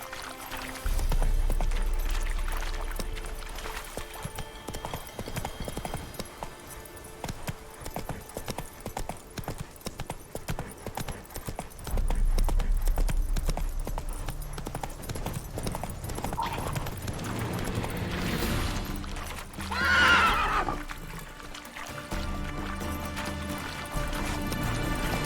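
A horse in the video game The Witcher 3 gallops with steady rhythmic hoofbeats, fading in and out, followed by a short neigh near the end, with no talk.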